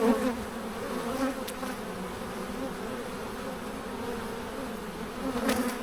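A large, crowded honeybee colony drones in a steady, close buzz during an open hive inspection, the bees hitting a beekeeper's gloves; the hum stays even throughout with no voices.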